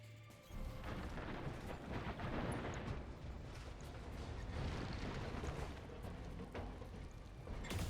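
Battletech mechs firing their weapons, a sudden loud onset into several seconds of continuous roaring, crackling bursts and booms layered together, dense and heavy throughout with no talk.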